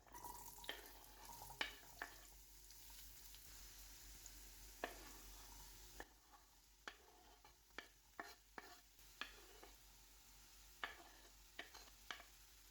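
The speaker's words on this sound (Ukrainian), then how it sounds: "будемо тушкувати на розгріті пательні на олії" Vegetables sizzle quietly in oil in a pan with a steady hiss, punctuated by repeated clicks and scrapes of stirring.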